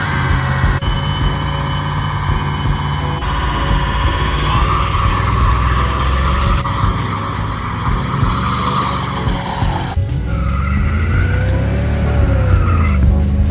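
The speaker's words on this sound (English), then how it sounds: "This thing burns rubber, just like this." Car with a 350 Chevy small block and an open differential doing a sustained burnout: continuous loud tire squeal over a revving V8 engine roar, close and unbroken throughout.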